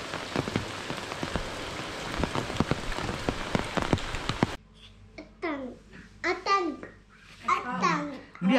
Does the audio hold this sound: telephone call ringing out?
no